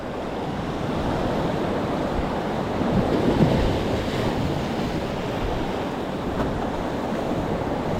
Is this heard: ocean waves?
yes